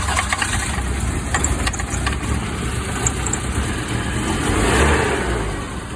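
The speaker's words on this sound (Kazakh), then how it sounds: "қозғалтқыш кішкене ойнап тұр, бүйтіп пақылдап" A GAZelle van engine idles unevenly and pops, with a suspected air leak or faulty mass air flow sensor. It is a steady, loud, close rumble lasting several seconds, with no voices.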